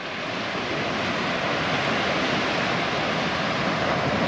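Ocean surf at Sorocotuba beach in Guarujá, where a freshwater stream running down the hill meets the sea, a continuous loud wash of breaking waves with wind noise and no voices.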